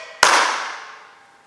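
A single loud, crisp hand clap close by, followed by a long echoing decay in a reverberant room, with no voices.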